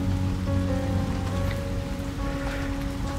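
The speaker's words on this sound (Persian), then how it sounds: "ولی الان که بارون اومده هوا به شدت عالی شده" Rain falls steadily on a street during a walk, a dense, even patter of drops on surfaces with a faint steady hum underneath, continuous from start to finish and no voices.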